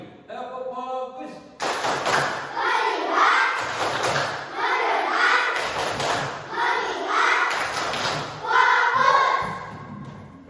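A classroom of children chants together and claps a "tepuk fokus" focus routine in a quick, repeated rhythm, phrase after phrase, loud and close.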